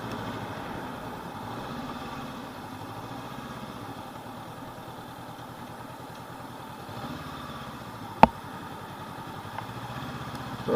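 2019 Honda CB500X engine on the move, a steady, moderate mid-range drone with gentle rises and falls in pitch and one sharp click partway through.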